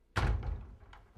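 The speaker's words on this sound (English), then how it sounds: "Carol Lee, close the door." A door in a house shuts with one solid, close thud, followed by a faint rattle as it settles.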